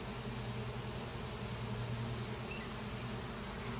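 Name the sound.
honey bee swarm buzzing overhead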